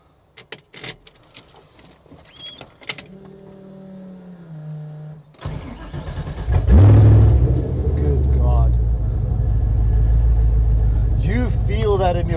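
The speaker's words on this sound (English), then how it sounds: "Let the engine roar." A 1968 Camaro SS with an LSX V8 starts up with a clunk and settles into a loud, deep rumble that swells as it revs and pulls away, with voices talking inside the car before and during it.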